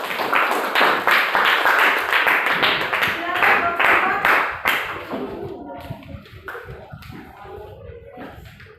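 A classroom group claps for its group leader, a dense burst of hand claps that holds for several seconds and then thins out into scattered claps and murmuring voices.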